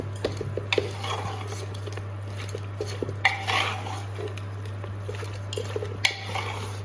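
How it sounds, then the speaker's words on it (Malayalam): Beef being mixed by hand with chilli powder, turmeric, salt and curry leaves in a metal pot, giving scattered clinks, scrapes and soft squishes over a steady low hum. "ഉപ്പും കറിവേപ്പിലയും ഇട്ട് നന്നായിട്ട് മിക്സ് ആക്കുക."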